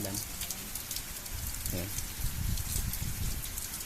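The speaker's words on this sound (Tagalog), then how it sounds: "napahinto kami kasi dala nga ng malakas na ulan" Heavy rain pours down steadily as a dense, close hiss, with a voice speaking briefly over the downpour.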